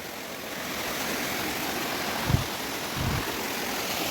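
Water rushing steadily at Chaulabhaja Waterfall in Mayurbhanj, a broad constant hiss heard from some distance, with two faint low thumps partway through.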